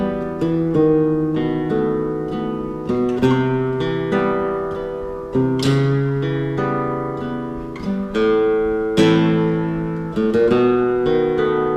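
Guitar plays the intro of an easy beginner song: a couple of chords and single plucked notes ringing out one after another in a steady, unhurried rhythm, clear and close with no voice.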